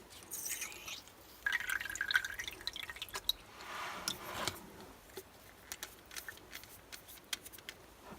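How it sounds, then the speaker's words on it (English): Water is flushed through the section of a Pelikan demonstrator fountain pen and drips out in a string of small, close, irregular drops and splashes, with a brief trickling burst early on. "Just flush out the whole pen."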